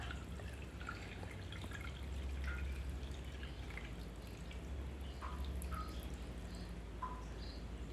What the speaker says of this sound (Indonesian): menyaring jahe yang sudah direbus sama serai